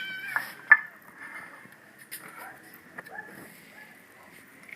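A large domestic cat meows a few times, faint and intermittent against a quiet room, with no voices.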